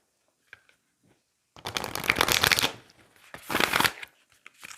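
A heavy White Light Oracle card deck is shuffled in two loud riffling bursts of fluttering card slaps, preceded by a few faint taps and followed by quieter handling.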